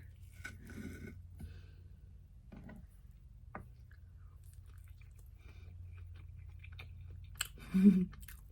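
Someone chews a bite of homemade Jewish apple cake made with yogurt, giving soft, close, moist chewing sounds and small clicks in a quiet room, with a louder mouth sound near the end.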